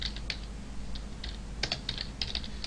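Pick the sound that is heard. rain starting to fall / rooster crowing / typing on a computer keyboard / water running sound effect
typing on a computer keyboard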